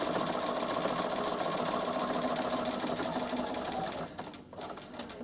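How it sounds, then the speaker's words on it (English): A Bernina sewing machine runs steadily while topstitching a fabric binding, its motor whirring with a fast, even needle clatter that holds constant for about four seconds before slowing and stopping briefly near the end. "just make sure it's folded in the right way and carry on sewing"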